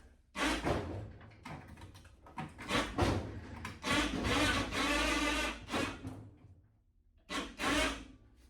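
A Harbor Freight 2,000 pound electric winch hoists the body of a 1972 VW Super Beetle, heard as bursts of whirring, grinding motor noise in several runs of about a second or two, separated by short pauses and some creaking.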